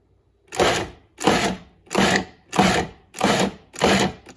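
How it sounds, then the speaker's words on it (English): A food processor pulses and chops meat spaghetti sauce in six evenly spaced, loud bursts of roughly half a second each, with short pauses between them. "When we pulse it, it's gonna chop the meat up, chop everything, just make it a little bit finer."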